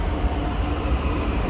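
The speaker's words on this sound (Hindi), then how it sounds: "भाई आ चुकी है मेट्रो" A Delhi Metro train pulls into a station with a loud, steady rumble and rolling roar of wheels on rails, heard up close without any voices.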